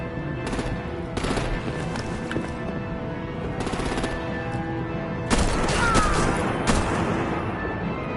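Gunfire and artillery in the Batman: The Enemy Within video game come as loud bursts of rapid machine-gun fire broken by brief pauses, with a heavier clustered volley toward the end.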